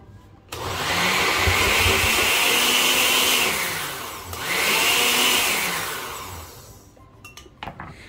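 Mixer grinder blending a coarse paste for protein appe, a loud motor whine in two bursts of a few seconds each, pausing briefly between them, followed by light clattering as it stops.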